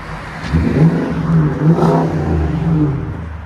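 A 2020 Nissan Armada Platinum with a 5.6L V8 and a Magnaflow Magnapack exhaust revs up close by. Its deep engine rumble swells in two short pulls over a few seconds.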